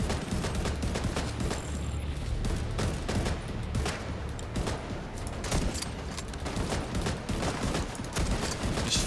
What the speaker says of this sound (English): So I'm gonna fire at the sniper in 3,